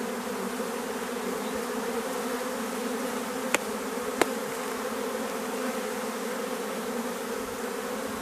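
Honey bees from a drone-laying hive drone in a loud, dense, continuous buzz close by after a frame is shaken, with two sharp knocks partway through.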